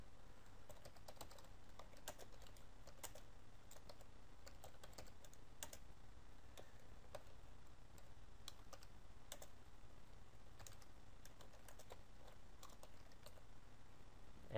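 Steady typing on a computer keyboard while entering announcement text, a continuous patter of close, light key clicks with no voices.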